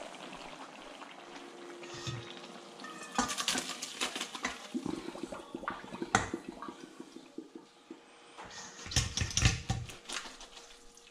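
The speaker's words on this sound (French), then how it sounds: "je vais arrêter le feu et je vais les égoutter pour enlever tout le jus" Cooked wild mushrooms drained of their juice, liquid splashing and pattering into a sink in irregular bursts, with louder pours near the start and end and steady trickling between.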